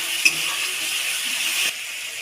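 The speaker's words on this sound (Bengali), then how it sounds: "এবার দিয়ে দেবো পেঁয়াজ বাটা, টমেটো পেস্ট, হলুদ আর লঙ্কা সব একসাথে দিয়ে কষিয়ে নেব" Onion paste, tomato paste, turmeric and chilli frying together in a pan, a steady bright sizzle with one small splutter near the start and a slight drop in hiss toward the end.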